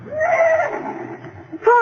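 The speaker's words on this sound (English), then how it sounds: "He's making Jim get in with those other horses." A horse neighs loudly and close as a radio drama sound effect, a single drawn-out whinny followed by a short snort at the end.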